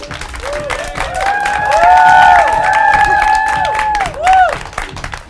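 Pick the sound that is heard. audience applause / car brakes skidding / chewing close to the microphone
audience applause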